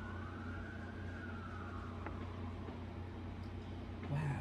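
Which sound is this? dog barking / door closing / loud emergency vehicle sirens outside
loud emergency vehicle sirens outside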